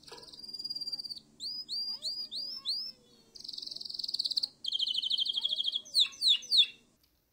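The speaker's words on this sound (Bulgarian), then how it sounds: "А това е канарчето." A canary sings clear, high whistled phrases of rapid trills, repeated chirps and sliding notes, with short pauses between them and no voices present.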